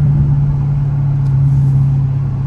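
A Dodge Challenger Scat Pack's V8 booms close and loud in a steady, deep drone, holding one pitch without obvious rises or falls.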